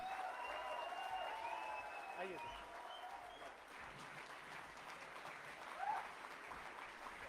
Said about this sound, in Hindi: आपका उत्साह और प्यार कितना है, आपकी तालियां ही बता सकती हैं